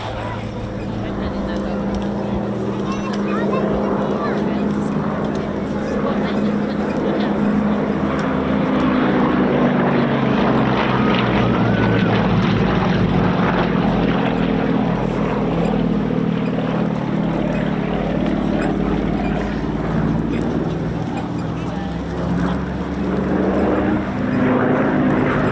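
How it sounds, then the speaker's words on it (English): A propeller aircraft dives past at an airshow, its engine roaring loud and steady for the whole stretch with a broad, rumbling drone that swells slightly midway, while a commentator talks over it. "With a hesitation roll off to the right as the second aircraft dives in from the left."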